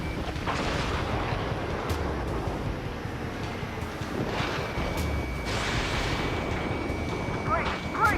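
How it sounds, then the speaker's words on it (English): Missile launches and explosions in the Ace Combat 7 flight combat game, with booming blasts and whooshing bursts over a constant roar of jet noise, loud and dense across the whole stretch. "Launching missile."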